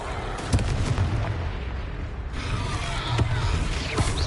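A Confringo fire spell explodes in a Harry Potter video game, with a couple of sharp bursting blasts over continuous battle noise and game effects, fairly loud throughout.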